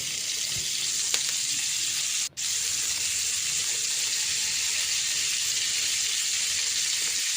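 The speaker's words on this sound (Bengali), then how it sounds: "তেলটা আমার গরম হয়ে আসলে একে একে সবগুলো কাবাব আমি দিয়ে দিব।" Green chicken kebabs frying in hot oil in a pan, a steady close sizzle that runs unbroken for several seconds, with one brief drop and faint clinks, no voices.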